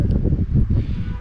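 Wind blows outdoors, a steady buffeting rush against the microphone with soft rustling, close and fairly loud, no voices.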